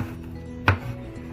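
A single sharp knife chop lands on a cutting board while an eggplant is diced into cubes for aubergine swallow, one close crisp thud amid quiet background hum.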